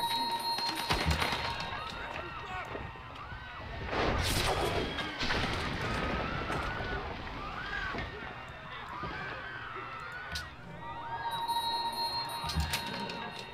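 Cannon fire and battle effects from the strategy game Civilization V, with booming shots and crashes rising and falling over game audio, as a player talks intermittently.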